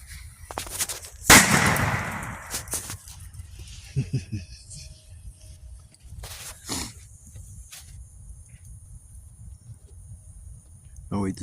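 Firecrackers set off outdoors, one loud sharp bang with crackle early on followed by several smaller pops and scattered bangs amid quiet background.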